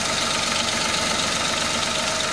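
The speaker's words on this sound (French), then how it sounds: "Donc là le moteur tournant." A Peugeot 107 1.0 L 68 hp engine idles after an oil change, a steady, loud, close mechanical hum with even vibration and no talking.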